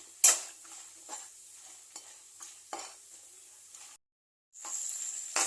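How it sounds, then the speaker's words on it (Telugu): Urad dal, cumin, peanuts and dried red chillies sizzle in hot oil for usirikaya pulihora, with a spoon scraping and stirring the pan in repeated strokes over steady close frying hiss. "మినప్పప్పు, జీరా, పల్లీలు, ఎండుమిర్చి వేసుకోవాలి. కొద్దిసేపు ఫ్రై చేసుకోవాలి."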